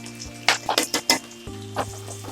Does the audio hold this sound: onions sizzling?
yes